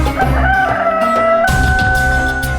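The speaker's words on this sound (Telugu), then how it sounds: "ఇది కోడి కూత అంటే దాని అర్థం తెల్లారిపోయిందని" A rooster crows loudly and close by in two long, drawn-out calls, with no other voices, in a scene from a period drama set at daybreak.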